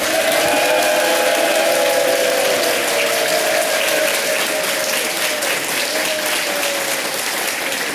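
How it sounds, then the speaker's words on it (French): Loud, sustained applause from a large audience at a political forum award ceremony in France, a dense wall of clapping that stays steady and alone for the whole stretch, with cheering and whistles faintly mixed in. "Pour Éric Delabarre, un tonnerre d'applaudissements."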